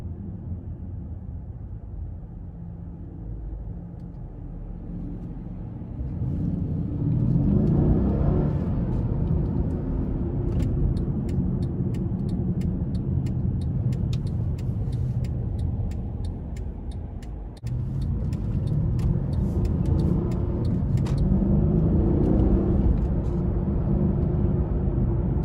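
A 2017 Mercedes-Benz CLS 550 4MATIC drives along, its engine rumbling low and steady from inside the cabin, swelling louder as it accelerates, dipping briefly, then building again with road noise.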